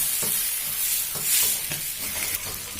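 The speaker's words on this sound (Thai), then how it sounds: "ให้เราผัดเครื่องแกงจนหอมนะคะ" Curry paste and tomatoes stir-fry in a pan with a steady, close sizzle and hiss, broken by soft rhythmic scrapes and knocks of a spatula against the pan.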